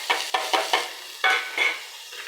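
Mixed vegetables and tomato are stirred in a hot pan for vegetable rice, bursts of sizzling and scraping strokes coming in an uneven rhythm, loud and close.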